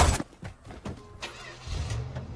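Jeep engine in the video game Far Cry 6, a thin buzzy motor with a few sharp bumps and thuds, then a low droning rumble settling in near the end.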